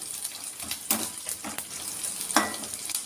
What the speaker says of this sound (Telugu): ఇప్పుడు ఆనియన్ వేసుకుంటాను. ఆనియన్ వేగింది కదా,